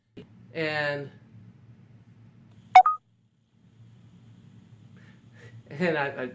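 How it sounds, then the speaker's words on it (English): A short electronic phone beep sounds once in a quiet room, a brief bright chirp between stretches of speech. "My phone beeped there."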